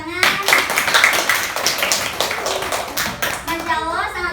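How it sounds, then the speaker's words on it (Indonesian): Audience clapping at a talk on preventing anemia among teenagers and women of childbearing age, a brief burst of hand claps with light voices mixed in, fading into a speaking voice. "Boleh dong diberi tepuk tangan."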